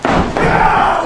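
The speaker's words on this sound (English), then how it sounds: "The crowd trying to rally around the superstar." Wrestling crowd at an indoor independent event cheers and roars loudly and continuously, a dense sustained wall of voices with a brief thud near the start.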